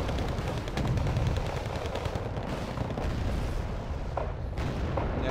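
Simulated gunfire from a Wargame Red Dragon firefight in a forest at long range: dense, continuous bursts of rifle and machine-gun fire with booming thuds, loud and unbroken throughout.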